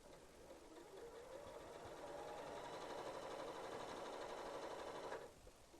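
A sewing machine stitches pieced quilt block seams for a Churn Dash quilt block, running as a steady mechanical whir for about five seconds and then cutting off abruptly, with no talking.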